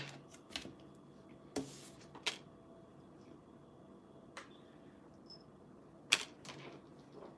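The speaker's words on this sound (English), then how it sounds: "I really have to become a better shuffler. That's why I just let the cards fall out." Tarot cards dropping out of a deck during a clumsy shuffle, giving a few sharp, separate slaps and flicks spread over several seconds against a quiet room.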